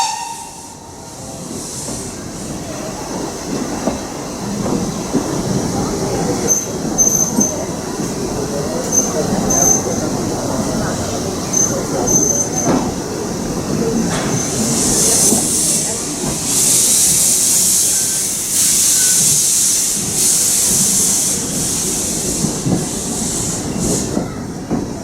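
Steam locomotive BR52 6690 running on a tourist railway in the Aa valley, a steady rumble of wheels and rolling stock with hissing steam that swells in the latter half, continuous and close.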